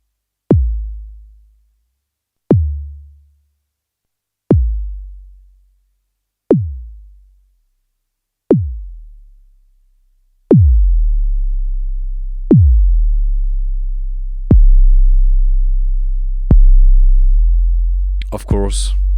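Shakmat Battering Ram analog kick drum module with increased pitch envelope depth, evenly spaced deep booming kicks about every two seconds, each with a sharp pitch-dropping click; later hits ring on into a sustained low tone before a brief glitchy burst at the end.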